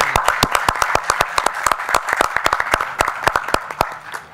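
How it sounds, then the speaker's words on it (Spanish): Audience at a municipal council session applauds committee members with steady, fairly close clapping that stays even and sustained, with no talk over it. "Pediría un aplauso para ellos, por favor."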